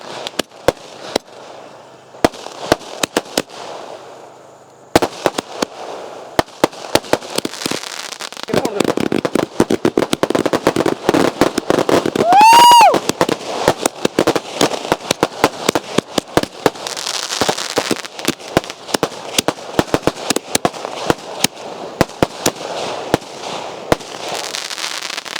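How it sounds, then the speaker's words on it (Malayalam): Vishu firecrackers and rocket fireworks set off outdoors, heard as dense volleys of sharp bangs and crackles with a rising rocket whistle midway. Loud, excited voices talk over the explosions. "നമ്മൾ ഈ കരയിൽ ആ കരയിലേക്ക് മിസൈലിന് തീ കൊടുത്ത് വിട്ടിട്ടുണ്ട്"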